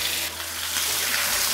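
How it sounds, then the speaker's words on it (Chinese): Chicken pieces stir-fried in hot oil in a wok with scallion, ginger and garlic, giving a steady close sizzle and hiss with faint scraping of stirring throughout. "把鸡肉炒至微微发黄"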